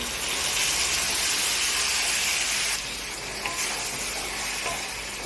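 Tomatoes fry in hot oil for a fish curry, giving a loud, dense sizzle that settles a little lower midway, with faint stirring clicks.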